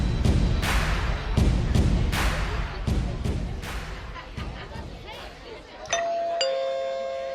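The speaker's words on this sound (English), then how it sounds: "Ah, the sound of my doorbell." Loud thumping and knocking at first, then a two-tone electronic doorbell chime rings out clearly and lingers at the end.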